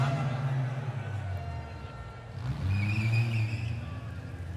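Cars manoeuvre on the pitch during a TV total Autoball match, engines droning and revving at middle distance beneath a commentator's steady talk.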